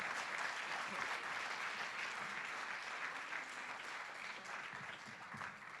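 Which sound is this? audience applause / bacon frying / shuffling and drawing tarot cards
audience applause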